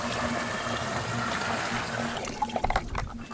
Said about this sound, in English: fill the tank about halfway with water